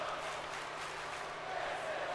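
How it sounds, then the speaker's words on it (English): A virtual arena crowd in the WWE 2K17 wrestling video game cheers in a continuous, moderately quiet wash of roaring voices, steady from start to finish. "Oh, the crowd are into it now."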